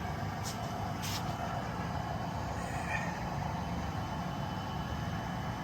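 Locomotives rumble through a rail yard in a steady, continuous low drone with faint higher hiss, moderately distant and without talk.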